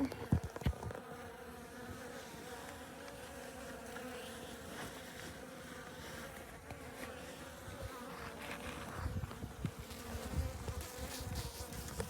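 Honeybees fed on granulated sugar hum in a dense, steady drone from an open hive, the buzzing continuous and close throughout with a few louder knocks near the start.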